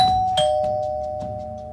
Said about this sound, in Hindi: अपार्टमेंट की घंटी बजती है।